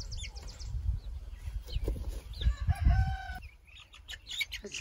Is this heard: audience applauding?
no